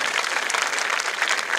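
A crowd applauds loudly and steadily at an official ceremony, a dense, continuous roar of many hands clapping close up, with no voices over it.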